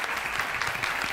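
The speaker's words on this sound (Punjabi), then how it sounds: "ਤਾਲੀਆਂ ਹੋਣੀਆਂ ਚਾਹੀਦੀਆਂ" Studio audience applause on a Punjabi game show, a thick, continuous burst of clapping close and loud, with no speech over it.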